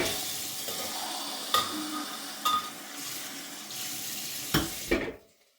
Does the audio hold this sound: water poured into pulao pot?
yes